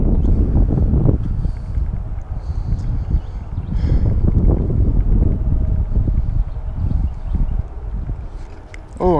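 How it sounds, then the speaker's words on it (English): Gusty wind buffets the microphone outdoors beside water while bass fishing, producing a continuous low, rumbling roar with uneven surges throughout. "stupid wind."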